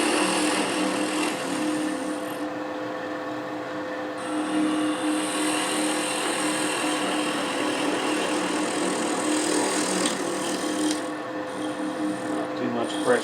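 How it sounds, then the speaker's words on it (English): A wood lathe spins a pear-shaped workpiece while a 3/8 spindle gouge cuts a slight cove, giving a steady, moderately quiet scraping hiss over a constant motor hum, with a brief lull partway through. "I use my 3/8 spindle gouge where I can cut that curve real easily."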